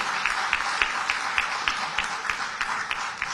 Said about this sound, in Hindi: जोरदार ताली बजा।